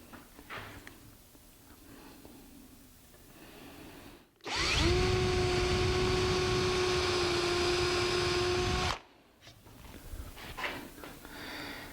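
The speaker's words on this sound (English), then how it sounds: "I'm going to take a brad point and I set it on the bit" A power drill runs a brad point bit into wood in a woodworking shop, one continuous steady whine of about four seconds at close range, set between quieter stretches of shop noise.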